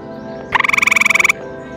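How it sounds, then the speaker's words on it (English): Near and loud, a single fast pulsing trill from a gray tree frog runs for roughly three-quarters of a second, about fifteen quick beats, over a low steady background with no voices. "We went camping with the scouts and we found a gray tree frog."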